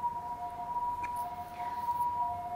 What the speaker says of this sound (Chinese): 外面有救护车，希望一切都平安